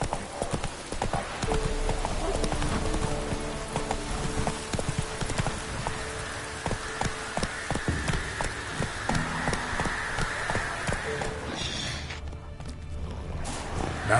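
Horse hooves clip-clop at a steady gallop in The Witcher 3 on PS5, loud and close throughout, with faint ambient rain and a brief whinny near the end.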